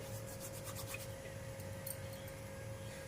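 Carom seeds (ajwain) are crushed between the palms, a faint, close dry rubbing and gritty scratching that continues steadily, with no talk.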